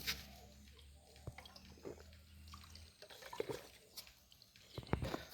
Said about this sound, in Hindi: पूरा एबे वर्षा होइछे